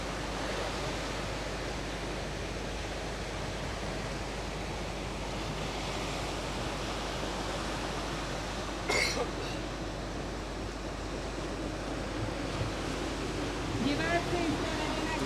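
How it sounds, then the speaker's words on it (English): Ocean surf rolling in at the Caparica surf contest, a steady broad wash of waves and wind with a few faint brief sounds over it and no clear voices. "Waves coming in"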